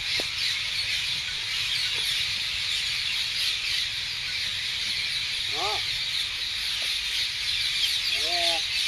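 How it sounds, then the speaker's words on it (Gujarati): Parrots call on a farm, giving a few short, bright squawks with rising, wavering tones at moments, against a steady hissing backdrop of insect-like noise. "જો મીઠો મધુર અવાજ આવે છે પોપટનો."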